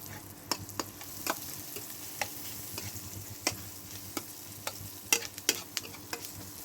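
Oil tempering in a kadai for bottle gourd fry, a soft steady sizzle punctuated by sharp, irregular spatula taps and scrapes against the pan, heard alone without voices.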